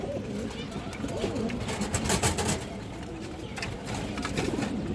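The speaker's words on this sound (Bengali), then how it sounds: "খুবই সুন্দর একটা সিলভার নর কবুতর" Soft coos of a male silver pigeon close by, mixed with a person talking and some shuffling background noise.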